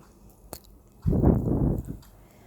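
Chopped kolai greens are stirred and tossed in a pan, giving one short, close, soft squishing rustle that lasts about a second.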